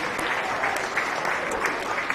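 An audience at a county fair beef show applauds with sustained, dense clapping that holds steady from start to finish.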